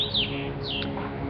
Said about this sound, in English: I'm listening to the birds singing here